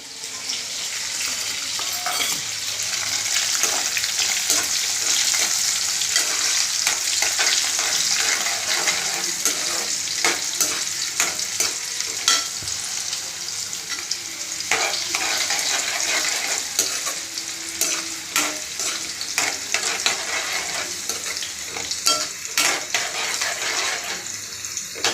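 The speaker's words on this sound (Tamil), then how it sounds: "காஞ்ச மிளகா நல்லா வறுபட்டுருச்சு." Dried red chillies and garlic fry in oil with a loud, continuous close sizzle, broken by frequent sharp scrapes and clacks of a spoon stirring the pan throughout.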